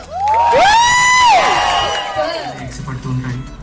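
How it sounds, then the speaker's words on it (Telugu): A cinema audience whoops and cheers loudly before a film premiere, with high rising shouts and a lively crowd roar that gradually settles into a murmur, with only faint clapping. "సినిమా ఒకసారి గట్టిగా ఓ గాని క్లాప్స్ గాని కొడితే మనం సినిమా స్టార్ట్ చేసేసుకుందాం"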